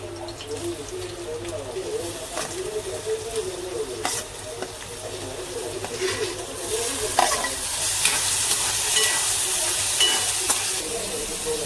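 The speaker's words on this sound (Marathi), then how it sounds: "कढई, तेल टाकते पनीर भुर्जीसाठी." Oil in a kadhai heating for paneer bhurji, a steady close sizzle and hiss with occasional stirring clatter, growing a little louder toward the end.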